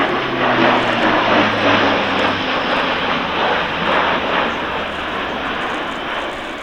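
An Airbus A400M Atlas turboprop military transport flies a fast display pass at an air show, accelerating at up to 285 knots, its loud, steady propeller and engine roar continuous and close throughout with no talk.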